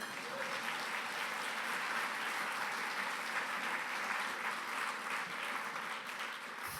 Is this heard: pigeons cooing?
no